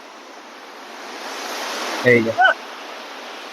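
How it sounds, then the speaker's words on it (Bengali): Water pouring down with great force, a loud steady broadband roar filling the whole clip, with someone briefly speaking over it midway. "ভীষণ বেগে জলটা পড়ছে, কি আওয়াজ।"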